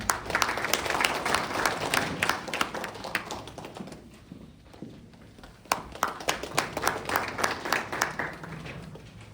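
Audience applause at a National Assembly legislative support forum in Korea, a full room clapping in a steady wash that dips briefly midway, then swells again with sharp individual claps standing out near the end.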